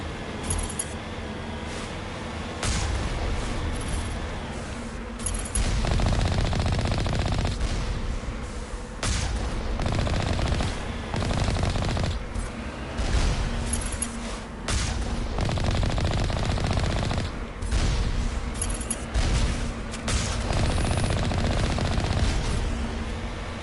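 Turret gunfire in the video game Mass Effect: repeated bursts of rapid automatic shots, loud and close, coming in clusters with short pauses between them across the whole stretch.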